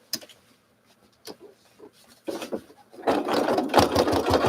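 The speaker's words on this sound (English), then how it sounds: "I'm going to stitch now a 1/4 of an inch across the bottom" A sewing machine stitches across the bottom of a zipper, starting with a few brief isolated clicks, then breaking into a loud, fast, steady mechanical whir close by.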